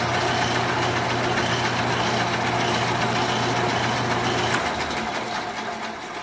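A Craftsman band saw runs after adjustment, giving a steady mechanical whir with a low motor hum that cuts out near the end while the whir fades.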